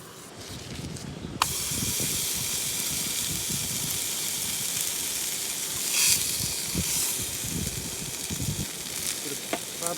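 Onions sizzling and frying in a pan for a burger cooked at an outdoor bush shelter, a steady close hiss with faint crackles and occasional stirring scrapes.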